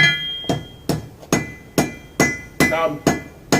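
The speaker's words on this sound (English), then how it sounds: "I'm using a traditional method called fire welding." A blacksmith strikes iron with a hammer during traditional fire welding, eight sharp ringing blows at a steady rhythm of about two per second, loud and close, each followed by a brief metallic decay.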